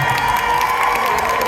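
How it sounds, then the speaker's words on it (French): Crowd at a cosplay contest during an anime convention cheers and applauds loudly as a judge takes the stage, a steady, dense roar of claps, whoops and shouts filling the whole moment. "Applaudissez-la bien fort."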